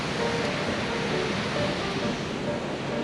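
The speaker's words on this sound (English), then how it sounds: "Water's like dripping everywhere, but side view of the waterfalls." A Canadian waterfall seen from the side roars as a constant broadband rush of crashing, spraying water, steady and fairly soft in level with no pauses.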